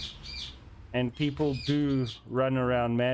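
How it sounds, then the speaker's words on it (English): Faint birds chirp in the background at the start, then someone talks loudly over them. "I'm sorry about the background noise if you can hear the birds."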